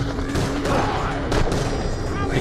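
Machine gun fire in the video game Borderlands: The Pre-Sequel, a dense, continuous burst of rapid shots with a few louder cracks, heard alone without talk.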